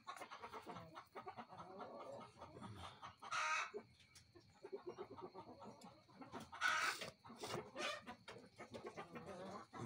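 Chickens on a farm cluck and chatter softly and steadily in the background, with two brief, sharper squawks standing out above the flock.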